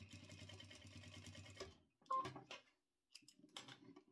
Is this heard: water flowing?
no